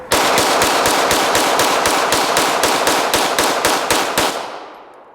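Rapid string of sharp gunshots from a Smith & Wesson 9mm handgun, about fifteen evenly spaced loud reports fired quickly over four seconds, then a fading echo.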